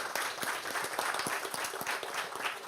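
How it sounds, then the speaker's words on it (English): Audience applause for a defense technology panel at the close of a conference session: dense, even clapping from a crowd, moderately distant and sustained throughout without voices. "Ladies and gentlemen, give a big applause to the panel."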